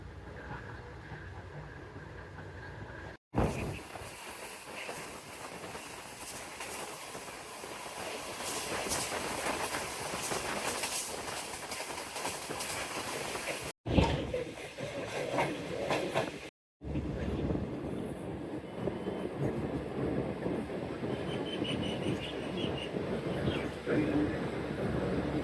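Shalimar Express passenger train with dining car and economy coaches travelling from Lahore to Multan, a steady loud rumble and rattling hiss of the moving carriages throughout, broken by a few brief dropouts, with voices talking over it.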